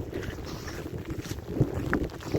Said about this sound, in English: It's getting windy, it's raining again.